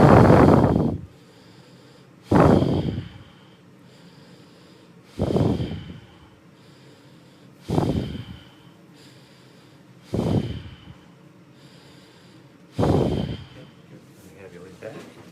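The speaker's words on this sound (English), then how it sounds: "Deep breaths" Deep breaths during a medical examination: six heavy, close inhalations and exhalations come at regular intervals of about two and a half seconds, each a loud airy rush that fades into quiet between.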